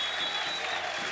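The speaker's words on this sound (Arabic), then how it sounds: "حسن معتوق عم يخرج من أرض الملعب على وقع تصفيق كبير وحار من الأنصاريين" A football crowd of Al Ansar supporters applauds warmly as Hassan Maatouk leaves the pitch during a Lebanese league match against Chabab Al Sahel, a steady, dense wash of clapping throughout.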